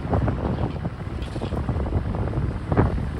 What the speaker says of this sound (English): the wind is crazy right now